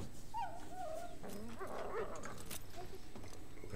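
A dog in a Game of Thrones episode whimpers and whines, thin rising and falling cries with a few small yips, faint against quiet background sound.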